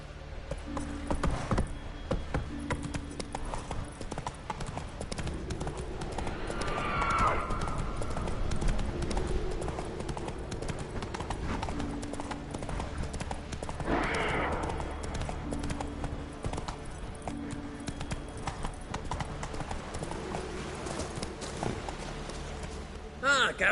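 Horse Roach galloping in The Witcher video game, with steady rhythmic hoofbeats running throughout under game music and brief spoken dialogue.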